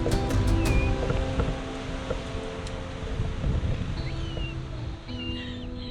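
Strong wind gusts buffet a buzzard nest in open countryside, a broad rushing roar with microphone buffeting that ebbs and surges, with faint high bird calls threading through.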